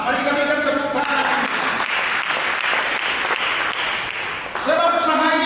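A church congregation claps together in steady, dense applause that holds for several seconds at close range. It eases briefly near the end before surging again, while a voice speaks faintly over the clapping at the start and finish.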